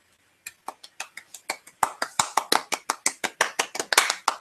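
Slow, even hand claps from a small group during a casual livestream, starting sparse and faint and growing steadily louder and more regular into a rhythmic beat of about four claps per second.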